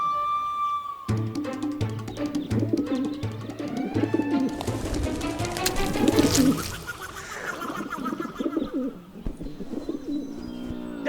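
A pigeon coos repeatedly, close and loud, its throaty rolling calls layered over chirps and other bird calls in a busy, continuous stretch.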